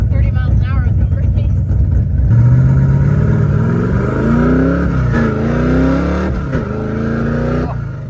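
A TKX car, faceplated and just installed, is driven gently at about quarter throttle with freshly bled brakes, its engine note rising and falling steadily from close by while people talk over it.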